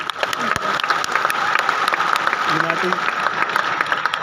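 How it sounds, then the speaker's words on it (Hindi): A stadium audience at a social media growth conclave gives loud, continuous applause for T-Series, with crisp individual claps over a dense crowd wash and a brief voice partway through. "जोरदार तालियां हो जाएगी।"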